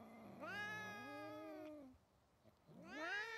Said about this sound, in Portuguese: A Magnus e Lulu e as pessoas deles, cantaram os gatos.